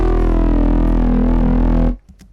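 A loud synth bass lead built from triangle or saw waves plays as the main part of a drum and bass track. It sustains a thick, buzzing tone with slight pitch movement, then cuts off abruptly near the end.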